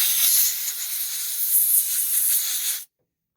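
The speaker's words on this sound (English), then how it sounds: "So I'm just going to blow some of this out. I don't want to use too much air." Compressed air hisses steadily out of a Dewalt chainsaw, blowing debris from the chain brake mechanism, a close, bright, continuous rush lasting a few seconds before cutting off abruptly.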